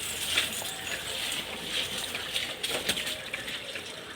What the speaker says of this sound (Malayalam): വെള്ളം അങ്ങ് പോയിക്കൊണ്ടിരിക്കുക